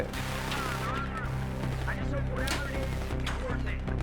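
Gunfire and explosions from the video game Battlefield 3 form a dense, continuous din of shots and blasts, with a player talking over the top.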